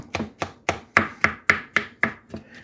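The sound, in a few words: chopping cooked vegetables with a knife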